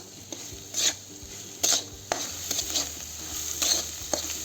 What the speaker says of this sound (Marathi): त्यासाठी तेल भरपूर घालायचं आहे आणि छान असं परतून घ्यायचं आहे त्याला